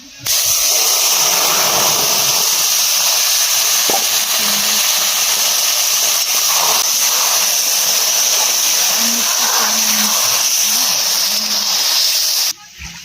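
Marinated fish hissing and sizzling steadily in hot oil in a kadai, with dried red chilli and bay leaf tempered in, a loud continuous fry noise held close throughout.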